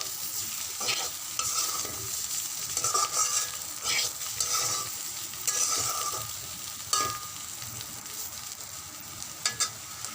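Spiny gourd and prawns frying and being stirred in a wok, with a steady hot-oil sizzle close by and repeated scraping strokes of a spatula against the pan throughout, no voices.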